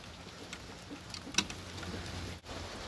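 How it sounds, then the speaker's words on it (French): Light rain pattering steadily on an outdoor chicken run, soft and even with scattered drop ticks and one sharper tap, no voices. "Oh, il pleut, on n'a plus l'habitude mes bijoux."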